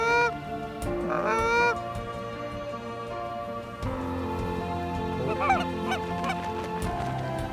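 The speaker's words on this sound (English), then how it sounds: "you want to call the geese in" A flock of geese honks repeatedly over a Kansas wheat field, overlapping calls near and far forming a steady chorus with bursts of louder honking.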